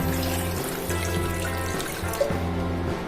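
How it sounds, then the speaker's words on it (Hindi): Water is poured into a pot of Nagpur Saoji mutton curry with onion and garlic paste, a close, steady trickle and splash over a repeating low mechanical hum, with no talking. "और उसके बाद पानी डाल देना है"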